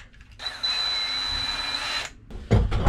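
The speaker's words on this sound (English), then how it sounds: "So I'm going to use my stepper bit, and 1/4 inch is the second step, so we'll only go that far." A step drill bit boring a quarter-inch hole while a pressure regulator is fitted to a 20-inch surface cleaner: a steady, high whining drill run of about a second and a half, close and loud, followed by brief handling noise.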